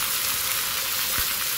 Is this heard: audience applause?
no